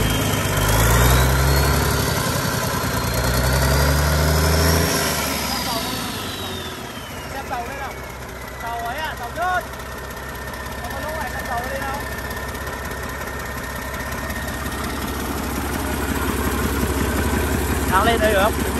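A Dawo Dosan 360 ps engine idles steadily with a deep, even low rumble, louder at first and then settling, while voices talk over it now and then.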